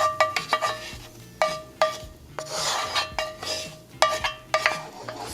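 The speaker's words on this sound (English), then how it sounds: "Stir them in before we add our elbows" A spoon scrapes and stirs onions into a cheesy macaroni sauce in a metal pot, giving soft rhythmic scraping and clinks against the pot walls, close and fairly quiet, with no talking.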